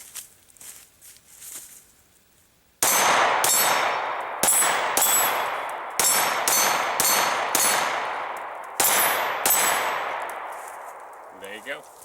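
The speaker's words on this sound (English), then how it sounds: "finish up here, putting some rounds on steel" Nine-millimeter rounds from a Smith & Wesson M&P Pro pistol ring off steel targets in a quick string of sharp, loud clangs, each followed by a fading metallic ring, after a few quieter seconds at the start.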